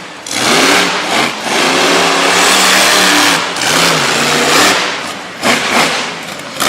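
Monster truck engine revving hard over tough truck jumps at a track event in Brookville, Pennsylvania, a loud, close, sustained roar with brief dips and surges as the throttle opens and closes.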